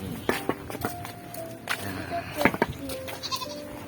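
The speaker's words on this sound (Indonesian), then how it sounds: "ada kambing." Goats bleat in short, scattered calls beside a footpath up a hill near a cemetery, while people talk and footsteps pass close by.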